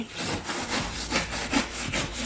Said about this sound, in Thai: เราใช้เลื่อยนี่เลย